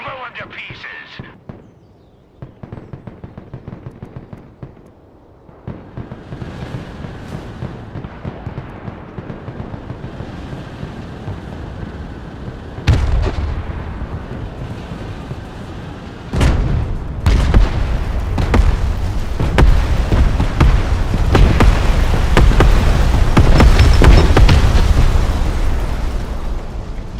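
Explosions and artillery fire in the video game Broken Arrow rumble through the battle, growing from scattered blasts into loud, dense booming bursts in the second half, with a voice speaking at the start.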